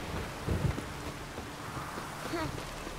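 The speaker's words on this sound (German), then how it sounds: "Es regnet." Rain falls steadily in The Witcher 3 video game, a soft, faint wash of noise with a low rumble of thunder early on.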